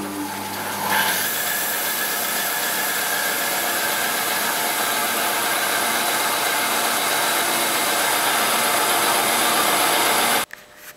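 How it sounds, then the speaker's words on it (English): A bandsaw runs steadily in a workshop, a loud continuous whir with a broad rushing hiss that holds evenly for about ten seconds before cutting off abruptly. "Bandsaw."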